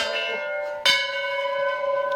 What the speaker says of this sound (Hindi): हर स्टेप पे यहाँ पे घंटे ही घंटे लगे हुए हैं।